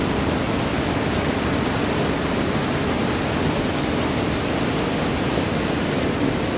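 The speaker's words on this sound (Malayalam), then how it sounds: "ആ ഒരു വെള്ളച്ചാട്ടത്തിൻ്റെ ഒരു ഫോഴ്സ് തന്നെ കണ്ടിട്ടു" Waterfall in Alappuzha district, a constant loud broadband roar of rushing water with no breaks and no voices.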